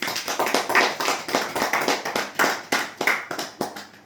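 A church congregation at a Sunday service claps in a steady, rhythmic beat, the sharp hand claps close and loud with no talking over them.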